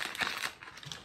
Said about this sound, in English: And I can just crumple up the rest of the bag.